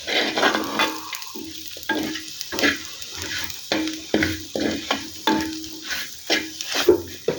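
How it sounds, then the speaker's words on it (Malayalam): Masala with garam masala frying in a pan for beef varattiyathu, sizzling while a spoon stirs and scrapes in quick irregular strokes, close and without talk. "എല്ലാം കൂടെ ഒന്ന് മൂക്കട്ടെ"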